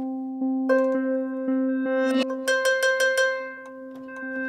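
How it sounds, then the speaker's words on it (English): A Celtic harp sample run through granular synthesis without pitch modulation gives a sustained, bell-like tone with stacked harmonics, retriggered in a pulsing rhythm of repeated grain bursts that thicken midway then thin out, clear and close with no voices. "Here I'm using a harp sample I made for one of my libraries."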